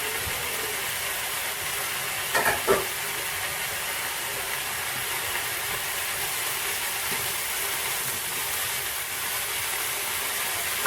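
Vegetables with mushrooms and spring onions fry in a pan for a vegetarian chow mein, making a continuous even hiss with a brief cluster of clatters near the start.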